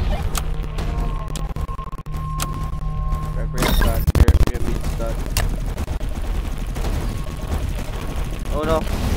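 Continuous gunfire and explosions from the Tower Defense X video game, on the Carrier map, form a loud, dense, crackling barrage. Excited shouting from a player runs over the top throughout.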